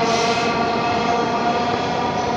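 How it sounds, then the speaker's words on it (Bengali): Dhaka metro train running through Mirpur 10 station, a continuous loud electric whine and rolling rumble close by, steady for the whole stretch with no voices. "এখন এই ট্রেনটি ছুটে যাচ্ছে"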